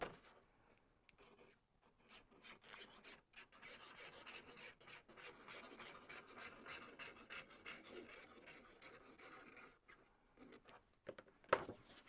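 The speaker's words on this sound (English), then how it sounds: "we need to fold and burnish our score lines" Folded paper score lines on a baby album flap being burnished with a tool, giving a steady dry rubbing rasp in repeated strokes close by, ending with a sharp tap near the finish.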